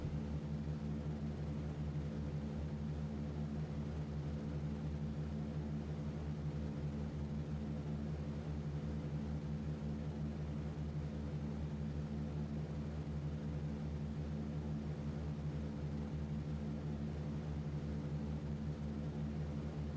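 A video game aircraft taking off, a steady droning engine roar with layered low hum, continuous and even throughout, with no talking.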